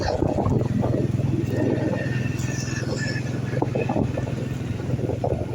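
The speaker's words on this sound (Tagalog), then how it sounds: "Kasakay na rin po ng motor." A motorcycle ride, with a steady low engine drone and heavy wind rush running continuously throughout, close and loud, with a person talking over it at moments.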